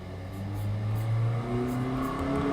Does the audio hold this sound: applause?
no